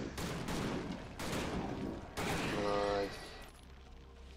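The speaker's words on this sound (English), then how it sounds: "We have infinite ammo for these shotguns, don't we?" Shotgun blasts from the action RPG Victor Vran in a dense run of loud bursts with heavy low rumble, a voice briefly speaking between shots.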